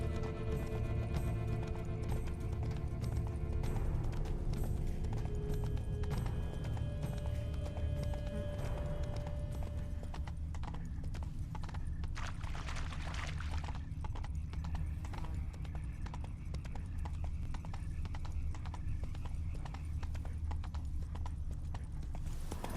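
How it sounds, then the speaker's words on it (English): In The Witcher 3: Blood and Wine, horses' hooves clip-clop steadily throughout, with a horse whinnying near the start, over a low rumbling background. "Horses must have gotten spooked."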